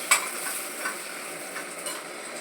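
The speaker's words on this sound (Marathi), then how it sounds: "आंब्याची हा कांदा आपण ब्राऊन होतो आता फ्राय करायचा." Onion frying in oil for chicken biryani gives a steady soft sizzle with a few light stirring scrapes and clinks, close and fairly quiet, with no talking.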